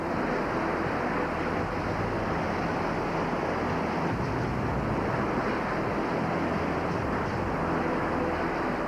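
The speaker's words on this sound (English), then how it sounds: "The powerful white water sucks Michael under." Powerful white-water surf churns and crashes continuously near the microphone, a dense, steady roar with wind buffeting and no voices, during a dangerous wipeout at a big-wave surf break.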